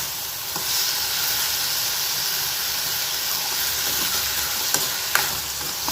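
Onions and masala sizzle steadily in a hot pan with a pinch of salt while cooking paneer butter masala, a continuous close frying hiss with faint stirring scrapes and no voices.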